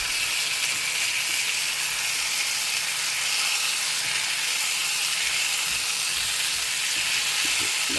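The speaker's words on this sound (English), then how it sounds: "oh, look at that simmer, I tell you, huh?" Catfish and shrimp simmering in a pan with Texas seasoning, giving a steady, loud, close sizzle and hiss that runs unbroken and alone.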